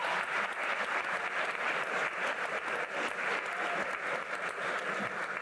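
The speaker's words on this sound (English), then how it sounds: "Give the senator a round of applause." Steady applause from an audience at an evening leadership event on military and business mentorship, dense clapping filling the whole stretch at an even level with no voices above it.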